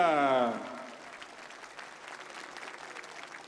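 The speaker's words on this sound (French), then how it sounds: "Applaudissez s'il vous plaît la formation Bora Argon 18" At the Tour de France 2016 rider presentation ceremony, a crowd applauds the Bora Argon 18 cycling team, the clapping a faint, distant patter that continues after a voice at the start fades out.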